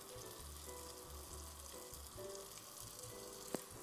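A small amount of oil sizzles softly in a frying pan, a faint continuous crackle heating up for breaded chicken pieces, with one brief clink near the end and no talking.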